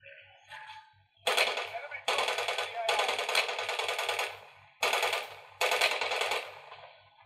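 Rapid automatic gunfire plays from Call of Duty Warzone on an HONOR 200 Pro phone. Several bursts are heard, each about a second long with short gaps between them, and a low pulsing hum continues underneath.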